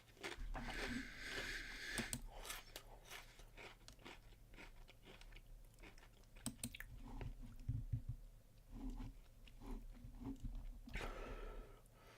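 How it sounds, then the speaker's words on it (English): Crunchy chewing and heavy breathing close to the microphone, with irregular bites and crunches over about twelve seconds and faint background noise. "this is just like crunchy chewing and heavy breathing ASMR"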